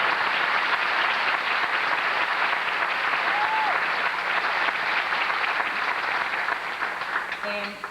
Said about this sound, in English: Could you please again clap for them?